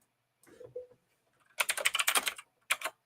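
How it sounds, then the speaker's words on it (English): A loud computer keyboard typed on at a podcast desk, a short burst of clacks followed by a rapid run of sharp keystrokes and a final quick flurry, close and alone. "Yeah, my loud keyboard."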